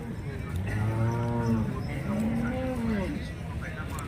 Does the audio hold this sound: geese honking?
no